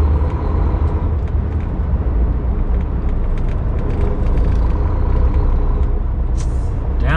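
Heavy non-stop traffic in downtown Chicago heard from inside a truck cab: a loud, constant engine rumble and road roar with faint passing-vehicle noise and a brief hiss near the end, no talk.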